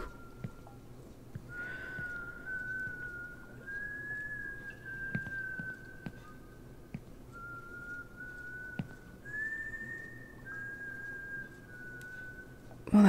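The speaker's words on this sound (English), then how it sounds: "The whistling." An eerie, sustained whistled tune drifts through a horror video game about wine, holding long wavering notes over a quiet ambient backdrop with faint scattered clicks, fairly distant and alone without talk.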